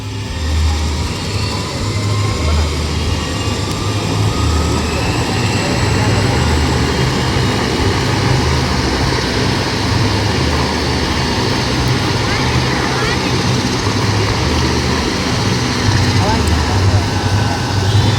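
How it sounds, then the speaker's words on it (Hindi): A helicopter carrying Chief Minister Vishnu Deo Sai starts its engine and spins up its rotor at a crowded ground. It gives a loud, steady mechanical roar with a low throb that lasts throughout, with crowd noise around it. "अरे हेलीकॉप्टर स्टार्ट हो गया है, इंजन पंखा भी घूमना स्टार्ट हो गया है जोरदार।"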